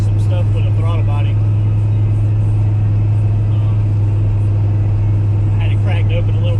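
Street car engine idling with a newly finished exhaust and a throttle-body idle adjustment, a steady deep drone running throughout, loud and close, with a person talking briefly over it.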